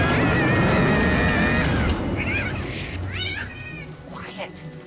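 A cat in a family Christmas movie gives a long, loud drawn-out meow up front, followed by a few shorter mewing calls under excited voices and background scoring.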